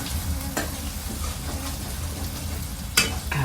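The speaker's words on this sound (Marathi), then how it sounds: "मसाले मस्त तेलात भाजून घेतो." Onion and spices fry in hot oil for a tomato chutney, a steady close sizzle with stirring scrapes and a couple of sharp clinks from the pan.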